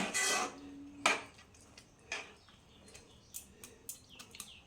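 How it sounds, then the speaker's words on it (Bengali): A metal lid clatters onto a cooking pot of sabudana khichuri, a loud clank followed by a few lighter metallic taps and clinks, alone with no talk. "ঢাকনাটা দিয়ে দেবো আমি।"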